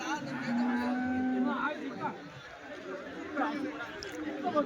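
Calves moo repeatedly among a murmuring crowd at a weekly cattle market in Chintamani, with people chattering nearby in a busy, noisy market.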